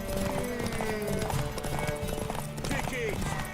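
Horses galloping and whinnying in the video game The Witcher 3, with a steady clatter of hooves and a neigh under constant busy game noise and speech.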